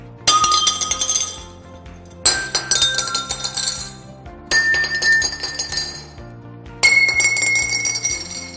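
Metal rods of different lengths struck one after another, four bright ringing strikes at steady intervals, each sustaining with a shifting pitch, close and clear.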